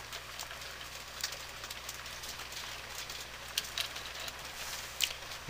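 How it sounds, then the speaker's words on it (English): Steady rain hisses softly and evenly, with occasional closer drips and patters standing out against the constant wash. "It's raining, as you can hear."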